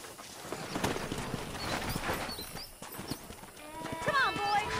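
Horses in the Red Dead Redemption video game, a pack of wild horses near a ranch, with rhythmic hoofbeats and a neigh, heard under game dialogue and a background music score.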